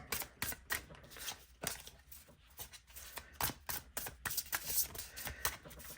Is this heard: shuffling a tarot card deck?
yes